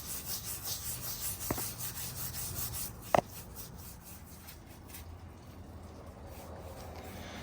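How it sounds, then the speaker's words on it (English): Clear furniture wax being rubbed by hand onto freshly sanded thrifted furniture, a steady soft scrubbing with a couple of sharp knocks partway through, close and alone. "we're just gonna use DIY's clear wax and wax it"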